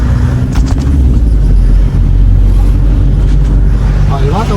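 Inside a manual-transmission car on a road in the Philippines, a loud engine drones with heavy low rumble and wind buffeting, with a brief dip in the sound midway as the gears are changed.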